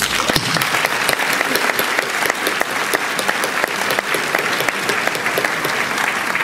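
A hall full of high school graduates gives parents, teachers and friends a round of applause at their graduation: dense, loud, continuous clapping from many hands, sustained throughout without a break.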